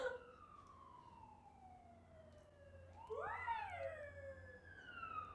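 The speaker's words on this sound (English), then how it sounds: "There's an ambulance going through every single minute." An ambulance siren wails in the distance, its pitch sliding steadily, then swelling louder and rising as it draws closer and passes.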